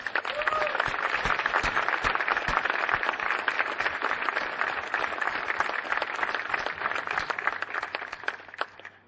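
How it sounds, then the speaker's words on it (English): An audience at a live community event honoring veterans gives a round of applause, a steady patter of individual claps with a few louder sharp hits, sustained for about nine seconds. "So can I get a round of applause for those two?"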